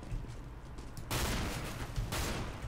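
A gunshot burst in CS:GO Arms Race mode, a sudden loud crack of sustained fire after a quieter stretch of game sound, followed by a second burst near the end.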